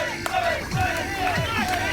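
Crowd cheering and shouting at an outdoor backyard wrestling show, a steady roar of many voices with rising yells, heard in the background with no other sound on top.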